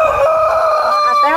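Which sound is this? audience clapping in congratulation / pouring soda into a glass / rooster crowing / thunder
rooster crowing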